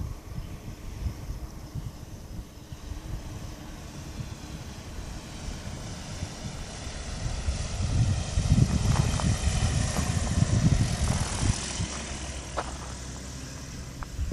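An ultralight (ULM) aircraft coming in to land at Cambaie, Réunion, at dusk makes a steady distant engine drone mixed with wind rumble, swelling louder midway and then easing off; no one speaks.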